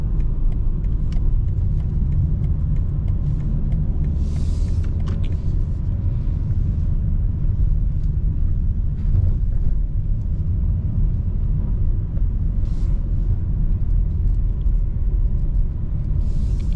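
A 2025 BMW M4 Competition xDrive, modified, cruising on the road in rush-hour traffic, with a steady low engine and road rumble heard from inside the cabin for the whole stretch and only faint brief sounds on top.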